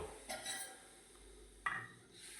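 Sas kadhi, a buttermilk curry, being stirred in a cooking pot, with a couple of brief metallic scrapes and clinks of a spoon against the pot over a quiet kitchen background.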